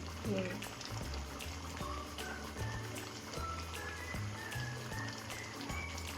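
Tadka dal bubbling in a pot, a soft steady simmer of popping bubbles heard under a person talking nearby.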